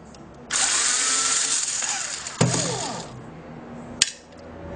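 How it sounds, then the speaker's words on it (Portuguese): A power screwdriver loosening a screw on an HP 1215 toner cartridge, a steady high whine lasting a few seconds, then a clicking clatter and a sharp metallic click near the end. "Aí solta-se esse parafuso"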